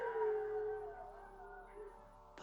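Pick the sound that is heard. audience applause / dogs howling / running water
dogs howling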